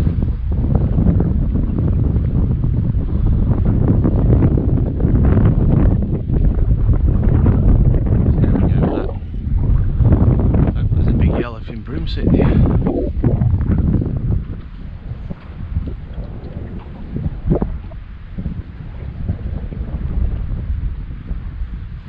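Strong wind buffets the microphone from a small fishing boat on an estuary, a loud, continuous roar with gusty swells and faint water sounds beneath.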